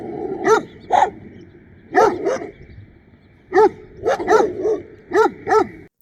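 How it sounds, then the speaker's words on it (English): A dog barks while chasing someone walking along a desert road: about nine sharp, close barks in uneven bursts over a low background hum, with a gap in the middle before the barking resumes. "I'm getting chased by a dog."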